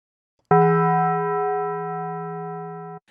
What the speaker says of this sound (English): In Operator, they've got an iteration of that bell, which is called Bell's Classic Basic.